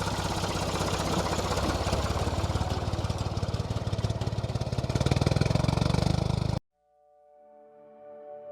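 A tractor engine runs on a farm in central Portugal, a loud, continuous, rough rumble heard close up that cuts off abruptly, after which faint tonal sounds follow.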